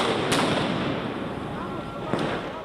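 Two sharp firework bangs crack out about two seconds apart at a street protest, amid a loud, noisy crowd with voices talking.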